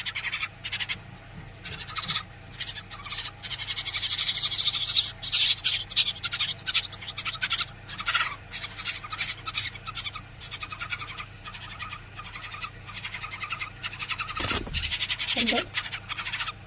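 A rescued baby bird, eyes not yet open after a rain storm, calls with repeated sharp, high chirps in quick bursts, close by, with occasional voices in the background.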